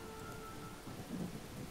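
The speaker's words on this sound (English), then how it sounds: "Man, that storm volume is loud in my headphones." Thunderstorm ambience from the fantasy strategy game Fallen Enchantress: steady hissing rain with a low rumble of thunder swelling near the end, continuous and fairly quiet, with no voices.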